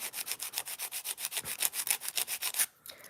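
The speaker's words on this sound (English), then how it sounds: "I'm gonna grab an 80/80 file grit and just get started" Rapid back-and-forth rasping of an 80/80 grit nail file across fingernails, about fourteen even strokes in steady rhythm, close and fairly loud, stopping near the end with a quiet rustle.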